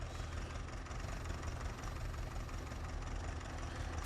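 Tractor engine idling in Farming Simulator 19, a small 45-horsepower machine: a steady, dense low rumble with a faint knocking texture, holding constant and unbroken with no voices.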